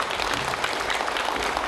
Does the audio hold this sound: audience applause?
yes